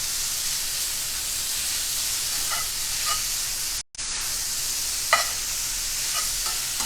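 Browning empanada filling sizzles loudly in a hot pan with a steady frying hiss, then dips suddenly as liquid goes in and returns to a strong sizzle with faint stirring clinks.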